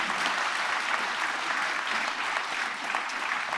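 Sustained, loud applause from a conference audience after a housing affordability panel, an even wash of many hands clapping with slight swells and no talking.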